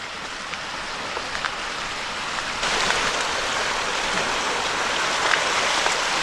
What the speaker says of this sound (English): I think this is still the French Creek